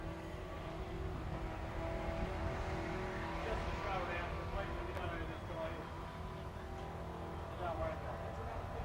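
A car doing a tyre burnout at the Summernats burnout eliminations, heard as a steady loud engine roar and crowd din in a large arena, with a voice talking over it.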